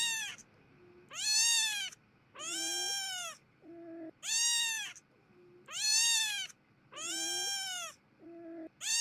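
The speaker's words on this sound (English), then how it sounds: "Do you recall frogs making a sound like this clip?" A recording of a frog screaming, playing as a series of loud, drawn-out, meow-like wails separated by short gaps, clear and alone.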